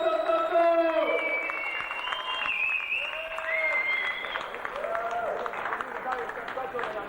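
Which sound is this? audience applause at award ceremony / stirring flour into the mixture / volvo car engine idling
audience applause at award ceremony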